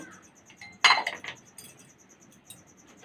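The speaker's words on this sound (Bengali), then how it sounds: "সিটি আর রবারটা খুলে দিচ্ছি।" Whistle and rubber gasket being taken off a pressure cooker: a sharp metallic clank, followed by a few lighter clinks and taps of metal, close and fairly quiet.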